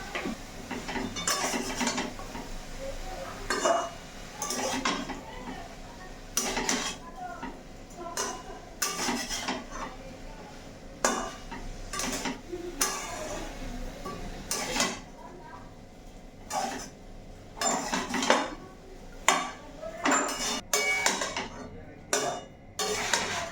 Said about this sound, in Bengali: একটু নেড়ে চেড়ে মশলাটা মাখিয়ে নিচ্ছি।